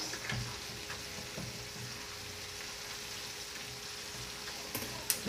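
Small fish frying in oil in a pan, a faint, steady crackling sizzle heard alone with a few soft clinks near the end.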